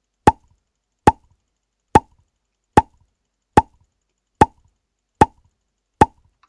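Eight short pop sound effects fire on mouse clicks in a homemade POPCAT browser game built with HTML, CSS and JavaScript, spaced evenly about a second apart, crisp and isolated against silence.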